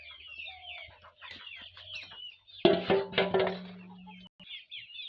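Farm chickens cluck and chatter nearby, soft intermittent calls with a louder burst of excited clucking in the middle before it settles back to quieter calls.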